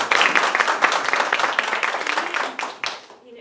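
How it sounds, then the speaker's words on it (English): A presentation audience claps for a community representative: close, loud applause with distinct individual claps that thins out and tapers off near the end. "Everyone give him a round of applause."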